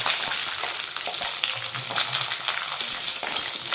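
Cashews, fresh coconut and green chili fry in hot oil for a curry base, making a continuous close sizzle broken by the scrape and clatter of stirring. No voices.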